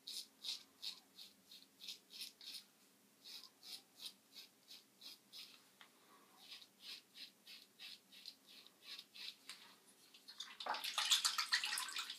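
Water runs from a tap to rinse a wet-shaving razor blade, with a rhythmic swishing pulse as the blade is moved back and forth, ending in a brighter, louder splash of flowing water.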